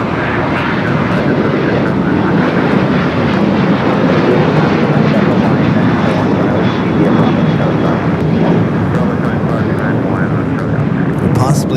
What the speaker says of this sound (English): we do have American Airlines Flight 10 heading to JFK, 777 at 200 next takeoff here on the south side